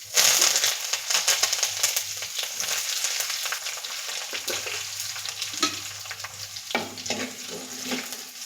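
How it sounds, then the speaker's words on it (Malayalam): Curry leaves and chopped garlic dropped into hot oil, a loud burst of crackling sizzle that settles into steady frying with stirring scrapes and a low hum underneath, no voices. "ഇനി ഇതിലേക്ക് കറിവേപ്പിലയും കട്ട് ചെയ്ത് വെച്ചിരിക്കുന്ന വെളുത്തുള്ളി കൂടി ചേർത്ത് കൊടുക്കുന്നുണ്ട്."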